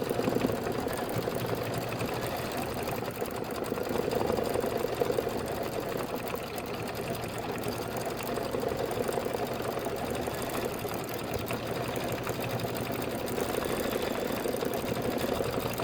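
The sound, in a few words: embroidery sewing machine stitching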